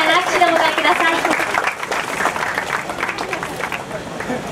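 An audience at a youth amateur cycling championship award ceremony claps steadily in a continuous burst of applause, while a voice speaks over the clapping.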